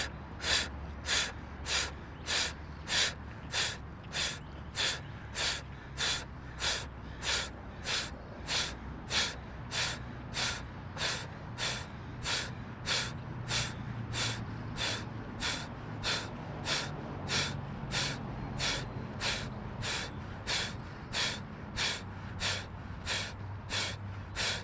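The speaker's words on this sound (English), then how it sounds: "Bring your belly button into your spine and exhale really, really, really loud." Breath of fire yoga breathing: a long run of about thirty sharp, forceful nasal exhales, fired in a quick, steady rhythm at close range, each puff a short hissing burst.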